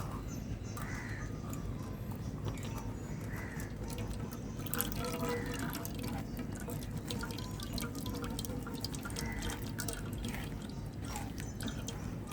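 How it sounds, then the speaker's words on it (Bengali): Cold water pouring into blended guava juice to strain it, a steady running, splashing wash with small drips, moderately loud and continuous throughout with no talk. "ঠান্ডা জলটা ওর মধ্যে দিয়ে দিচ্ছি, ভালোভাবে ছেঁকে নেওয়া যাবে।"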